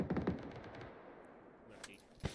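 Gunfire in the video game PUBG: a rapid burst of automatic shots opens loudly, then fades into quieter game ambience, with a single sharp shot near the end.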